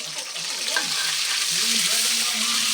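Tomatoes drop into hot oil in a pan for a bitter gourd dish, setting off a steady, close sizzle with stirring scrapes throughout.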